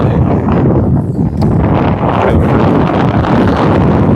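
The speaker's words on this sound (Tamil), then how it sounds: "இருபத்தி நாலு மணி நேரம் இந்த காற்று அடிக்குது" Strong wind blows steadily against the microphone outdoors near stairs on a family trip, a loud continuous roar and buffeting rumble that fills the whole span with brief dips.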